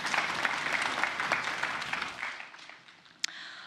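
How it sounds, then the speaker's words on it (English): An audience at an afternoon lecture applauds in a dense, steady wash of clapping that tapers off toward the end, with one sharp isolated clap near the close. "Give yourselves a round of applause."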